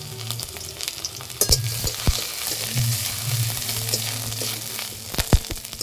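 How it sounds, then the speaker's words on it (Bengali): Garlic, ginger and green chilli sizzle steadily in mustard oil in a kadai, with a broad crackling hiss and a few sharp clinks and scrapes of a utensil stirring through the pan. "আদা রসুন হালকা করে ভেজে নিয়েছি।"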